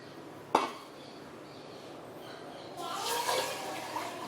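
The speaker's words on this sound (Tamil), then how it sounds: "அரிசி ஆட் பண்ணிட்டு நீங்கள் இதில் தண்ணி ஆட் பண்ணிவிடுங்க." Water poured into a pot of rice for milk pongal, a faint click followed after a pause by a soft, steady splashing pour close by in a quiet kitchen.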